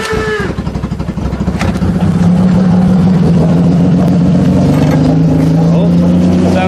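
A Honda Accord engine cranks on a booster pack, catches and settles into a loud, steady, somewhat rough idle with a constant drone, sounding unhealthy and vibrating from a broken motor mount.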